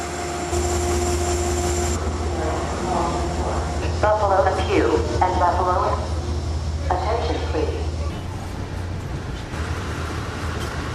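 A steady low rumble and hum of a moving Amtrak passenger train bound for Niagara Falls, with people talking faintly over it in the middle.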